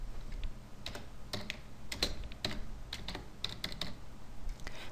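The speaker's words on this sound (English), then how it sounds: "Type a name for your database link." Keys click on a computer keyboard as a name is typed into a database-link field, with irregular bursts of crisp taps over quiet room hiss and no talking.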